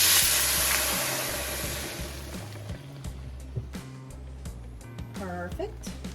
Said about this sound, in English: I've got a frying pan getting hot with some oil in it. Be very careful of this because it will splatter.